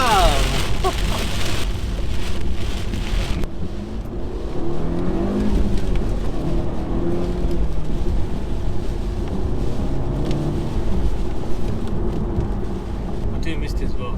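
Mitsubishi Colt pulling hard in second gear on a country road, the engine note climbing loudly and steadily, heard from inside the car alongside road noise.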